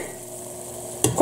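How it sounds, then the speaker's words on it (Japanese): A silicone spoon stirring pumpkin curry in a steaming pot: a faint hiss, then one brief, close scraping stir near the end. "1回ここでかぼちゃを混ぜていきます"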